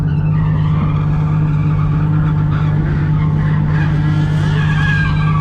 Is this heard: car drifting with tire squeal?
yes